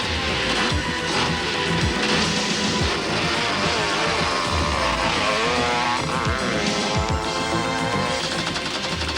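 Racing motorcycle engines roar and whine continuously at the 1988 Mmabatho Sun 500 race, loud and dense, with revving pitch changes and a constant noisy background.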